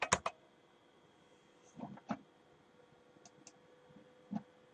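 Keystrokes on a computer keyboard, a quick burst of several clicks at the start followed by scattered single taps, fairly close and quiet, with no talking.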